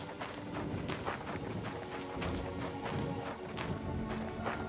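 Hooves of a horse in the medieval game Kingdom Come: Deliverance II clop steadily over a dense, noisy ambient bed, with occasional snorts and no talking.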